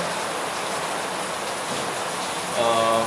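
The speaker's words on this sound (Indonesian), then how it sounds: "karena ini lagi hujan soalnya" Steady heavy rain falls outside, a dense even hiss filling the background at moderate level, with a faint tonal hum entering near the end.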